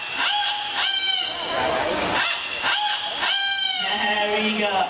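A parrot mimics a noisy farm rooster in a bird park aviary, giving several loud, drawn-out crowing calls one after another, close by, with a gurgling rasp between the phrases.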